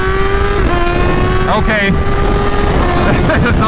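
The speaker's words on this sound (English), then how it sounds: "That 2nd gear, let's see if we can feel 2nd gear here. Alright, 2nd gear, let's give it the beans." A supercharged 2021 Kawasaki Z H2 with a BT Moto flash accelerating hard in second gear, a loud, close engine drone that rises steadily in pitch with a brief shift-like break, under heavy wind noise and a short spoken word.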